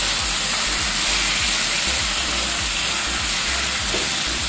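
Chicken liver and gizzards, already boiled, sizzling in a pan of fragrant sautéed aromatics: a loud, steady, dense frying hiss with faint stirring knocks, no voices.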